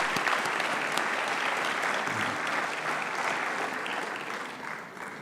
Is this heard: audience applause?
yes